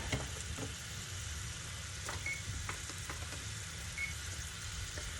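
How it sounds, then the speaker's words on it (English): Pork tenderloins sear in a hot pan with a steady, even sizzle, faint and continuous with a few small pops and clicks, no voices. "We're going to start by searing up our tenderloins."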